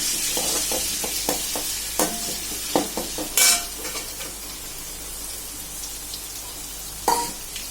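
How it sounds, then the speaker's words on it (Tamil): Crushed ginger and garlic fry in hot sesame oil, giving a steady close sizzle with scattered crackles and spatters, plus a few sharp stirring scrapes and knocks of a utensil against the pan. "எண்ணெய் காஞ்சதும் இதுல இஞ்சி பூண்டு நசுக்கி வச்சது சேர்த்துக்கலாம்."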